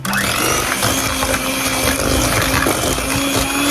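Cake batter for a chocolate banga cake being mixed with an electric mixer or blender, a loud, steady motor whir with a grinding, churning texture, continuous and close, with no talking.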